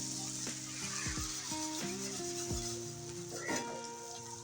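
Water poured into sizzling fried spice paste for a poa fish curry, with a steady hiss and crackle, some bubbling gurgles, and occasional spoon knocks, fairly soft and close.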